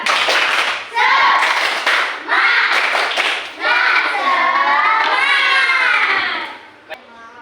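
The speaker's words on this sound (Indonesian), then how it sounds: "Kasih tepuk tangan untuk kita semua." A classroom group claps together in a loud, sustained burst with excited children's voices, easing briefly before resuming and fading out near the end.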